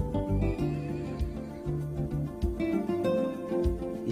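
Wild or semi-feral horses in Bosnia neigh, with a loud, close, wavering whinny repeating in several bursts across the clip and no talking.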